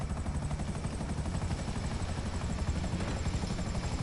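A helicopter in the video game GTA V, its rotor chop a steady, dense beating whir that holds evenly throughout at moderate level, with no voices.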